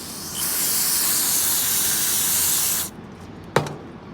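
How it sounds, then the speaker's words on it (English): A parts washer in a shop sprays fluid in a steady, loud hiss for nearly three seconds, then cuts off, followed by a brief sharp clank. "it's time for the official parts washer"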